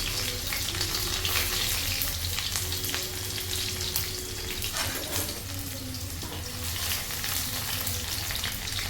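Sliced onions and green chillies fry in hot oil over lowered heat on a gas stove in an Assamese kitchen, a steady close sizzle and crackle throughout, with occasional stirring and no talk.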